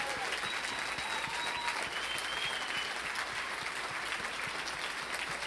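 Sustained audience applause at a 2010 graduation ceremony, dense clapping from a large crowd continuing steadily throughout with some faint voices mixed in.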